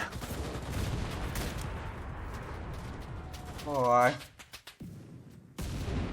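Gunfire crackles in the World War II shooter game Enlisted, a busy stretch of shots and bursts layered under a player's exclamation, with a few sharp isolated cracks afterward.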